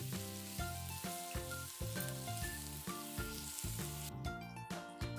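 Cumin, mustard seeds, chopped chili and garlic hit hot oil in a tadka, producing a steady close sizzle with crackling pops, and a distinct metallic tonal ringing runs through it.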